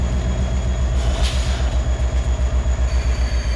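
A freight train pulling grain hoppers rolls steadily in Farming Simulator 22, with a low rumbling engine drone and a regular rhythmic clack of wheels over rail joints, loud and continuous with no talk.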